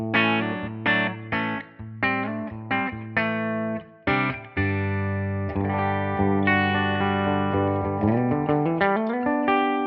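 Electric guitar through an amp modeler set to a JTM45-style low-gain British tone plays picked notes and then sustained chords, slightly gritty, with a touch of reverb, no voices.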